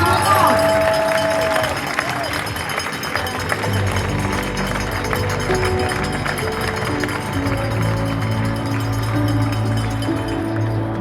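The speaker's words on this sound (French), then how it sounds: "3, 2, 1, applaudissements." Spectators at the UTMB 2023 ultra-trail finish line applaud in a dense, steady wash of clapping that lasts throughout, mixed with crowd hubbub and voices.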